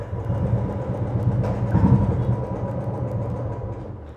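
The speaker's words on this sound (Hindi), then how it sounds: "जैसे ही मैं गियर डालूँ तो खड़क करके आवाज़ आ रही है" A motorbike idles with a low, steady rumble, then gives a single brief clunk as it is put into gear.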